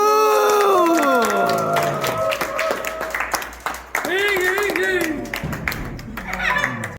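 A cheering crowd of children and adults from a Busan youth baseball team, clapping and shouting right after candles are blown out at a surprise celebration, loud and lively with singing-like voices and laughter mixed in.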